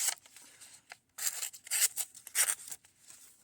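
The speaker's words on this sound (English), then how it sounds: "let's take a look at the cut on the copy paper to see how it do there" A Kershaw Camshaft knife slices through copy paper in several short, crisp rasping cuts, close and fairly loud, with quiet pauses between strokes.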